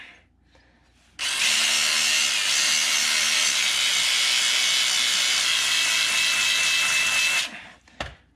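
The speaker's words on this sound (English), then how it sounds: "I'm sure you're buffing them pins down good." A power buffing tool polishes the brake caliper slide pins of a 2010 Acura TL, a loud continuous whirring grind lasting about six seconds with an abrupt start and stop, surrounded by brief quieter handling noises.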